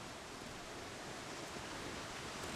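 A waterfall in the survival game The Long Dark, a steady broadband rush of falling water, loud and unbroken for the whole stretch, with no voices.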